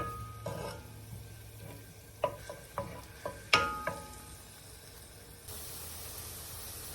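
Garlic toasting in a hot pan until browned gives a steady sizzle, with a few sharp stirring scrapes and clinks in the middle and a brighter hiss toward the end.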